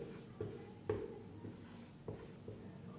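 Writing during a lesson, likely chalk on a board: soft, repeated scratchy strokes with short taps at uneven intervals against a quiet room background, with no talking.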